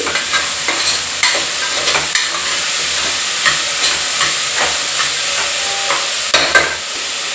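Soybean pulao masala frying in oil in a pan, a loud steady sizzle broken by repeated scraping stir strokes and soft clacks of a spoon against the pan, with no voices.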